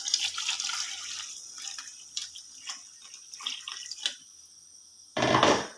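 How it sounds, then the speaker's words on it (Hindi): Water poured from a glass into a pot of cooked pulao masala, splashing and trickling in uneven bursts up close, then a louder final gush as the last of it goes in. "मैं 4 गिलास पानी जो है वो ऐड करूँगा"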